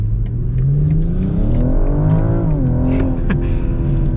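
A 2022 BMW M440i xDrive Coupe engine revs up as the car accelerates, a loud, close, continuous rising drone with climbing pitch that dips briefly near the end like a gear change, with no talking.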